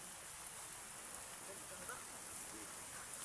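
Steady rain falls outdoors as a soft, even hiss with scattered drops, faint and unbroken throughout.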